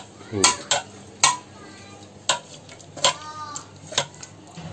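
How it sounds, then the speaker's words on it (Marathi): A spoon mashes hot cooked dal in a pot, giving sharp metallic clinks and scrapes every second or so, close and distinct against a quiet kitchen background. "आता ही जरा आहे ना अशी गरम गरम आहे तोपर्यंत अशी जरा घोटून घ्यायची चमच्याने"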